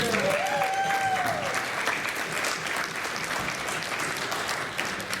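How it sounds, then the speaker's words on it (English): A convention crowd at a furry fan event applauds a performer leaving the stage, steady dense clapping from many hands, loud and continuous, with a brief whistle or cheer early on. "Let's give him a big round of applause for fake Majira"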